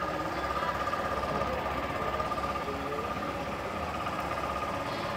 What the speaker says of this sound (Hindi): एग्जॉस्ट नोट सुनिए